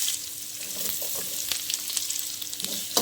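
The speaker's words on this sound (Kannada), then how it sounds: "ಚೆನ್ನಾಗಿ ಈರುಳ್ಳಿ ಸ್ವಲ್ಪ ಫ್ರೈ ಮಾಡ್ಕೊಳ್ಳಿ." Onions fry in hot oil with mustard seeds, curry leaves and cumin for a greens palya, giving a soft, steady sizzle with faint crackles and light stirring.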